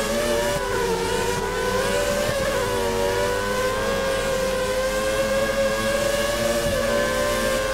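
Formula 1 race car in the F1 2013 video game at Catalunya, engine screaming at high revs through steady acceleration, a loud continuous whine with small pitch shifts as the car powers out of a corner.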